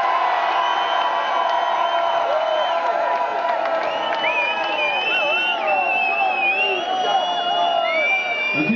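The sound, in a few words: applause and cheering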